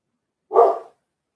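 A dog gives a single short bark, close and clear, against otherwise silent surroundings.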